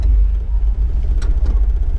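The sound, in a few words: 1956 Chevrolet Bel Air engine running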